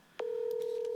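A steady telephone tone sounds after a short click while a call is placed to a candidate, the tone holding continuously and clearly to the end.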